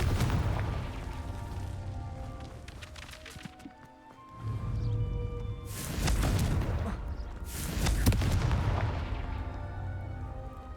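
In the Hogwarts Legacy video game, a Confringo fire-blast spell goes off in heavy booming bursts over a rumbling background, with several loud explosive surges.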